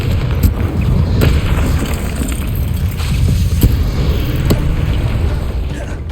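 In the video game Hogwarts Legacy, a Confringo fire spell explodes amid battle, with a loud continuous low rumbling roar broken by several sharp cracks and blasts throughout.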